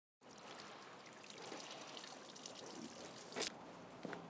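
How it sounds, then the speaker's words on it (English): Water from a hose pours and streams over a car windscreen, a steady close hiss of running, splashing liquid that starts abruptly and continues evenly, with a brief louder spray burst near the end. "we're just wetting the actual windscreen itself completely over"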